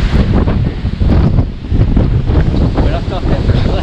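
Powerful gusts roar across the Guadalupe Peak summit in Texas, buffeting the microphone with loud, continuous low rumbling and flutter that barely eases over a few seconds.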